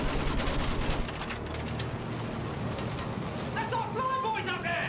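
Sustained machine gun fire in the World War I shooter Battlefield 1, a dense rattling burst of rapid shots lasting throughout, with booming battle noise underneath and a brief shouted voice near the end.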